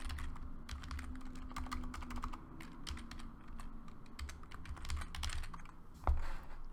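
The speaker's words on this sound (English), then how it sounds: "simply enter a title and a description for your ticket" Steady typing on a computer keyboard, fast close key clicks in an even run, entering a ticket title and description on a self-service portal, with a faint low hum underneath and no voices.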